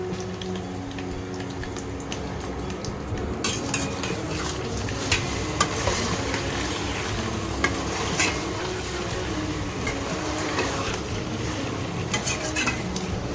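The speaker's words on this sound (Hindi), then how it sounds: "और इसको फ्राई करना है जब तक ये गोल्डन ब्राउन ना हो जाए।" Chicken frying for white chicken karahi, a steady close sizzle with stirring, spoon scrapes and clinks against the pot running throughout, no talking.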